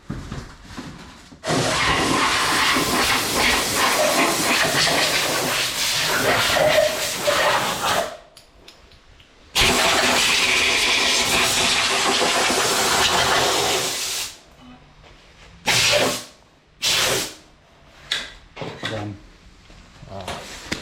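Ford Econoline van engine cranking and then starting, a loud broadband roar that runs for several seconds, drops out, fires again and then sputters in short uneven bursts, with voices nearby.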